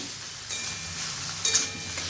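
Soaked chana dal stirred in a hot pan for a papaya curry, giving a brief sizzle with a couple of louder scraping sweeps of the spoon.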